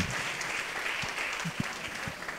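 A crowd claps loudly and steadily at a church gathering, a dense, even wash of many hands sustained throughout with no talk over it.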